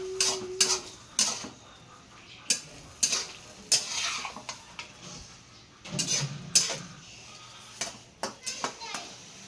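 Shrimp go into a hot pan and are stirred, giving a soft sizzle under repeated sharp clanks of a utensil against the pan, with a voice speaking and children's voices in the background.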